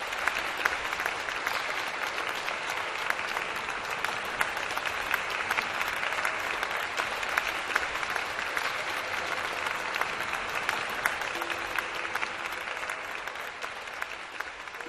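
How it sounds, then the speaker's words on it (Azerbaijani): A theatre audience gives a performer a long round of sustained applause, a dense, even roar of many clapping hands that holds steady at moderate loudness throughout and eases slightly toward the end. "Hələ o ilk alqışlar"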